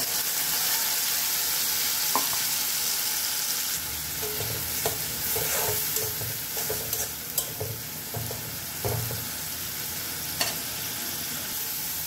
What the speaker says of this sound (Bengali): এখন দিব সরিষার তেল 2-3 চামচ পরিমাণ তেল দিলাম। দিয়ে দিব এখন পেঁয়াজ বাটা।